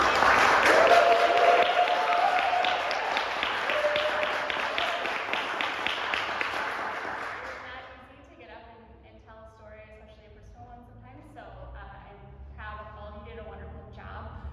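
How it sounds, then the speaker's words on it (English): Applause from the audience at a welcome-home celebration for global travel scholars, a full burst of clapping for about seven seconds that fades out, after which a person speaks. "Can I get one more round of applause for all of our scholars?"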